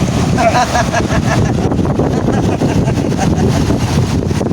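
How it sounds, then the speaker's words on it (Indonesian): Strong wind at sea on a southern coast beach roars loudly and constantly, buffeting the microphone, with a voice talking faintly underneath. "Kau lihat angin kencang di laut sana, Ompo."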